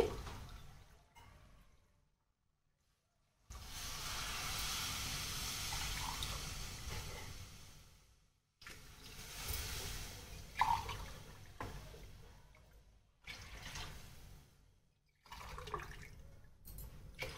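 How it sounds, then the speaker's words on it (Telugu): Water is poured from glasses into a cooking pot of jowar khichdi with buttermilk, in several separate gushing pours with quiet gaps between them, close and without talk. "నాలుగు గ్లాసులు వాటర్ యాడ్ చేస్తున్నాను"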